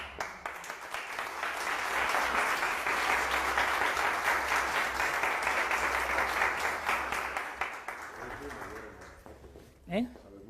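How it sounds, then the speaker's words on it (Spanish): A colorectal cancer prevention conference audience breaks into sustained applause that swells within a couple of seconds, holds steady, then fades out near the end before a brief voice sounds. "Un aplauso."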